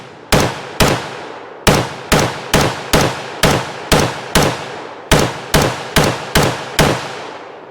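An HK MR556A4 piston AR-15 rifle fires on an outdoor range, roughly fifteen sharp, loud, close single shots in an uneven steady cadence, each with a short echoing decay.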